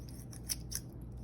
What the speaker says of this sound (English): I use scissors because it's easier.